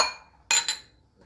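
Spoon clinks against a bowl while milk and vanilla glaze is mixed, two quick close clicks followed by a faint tap.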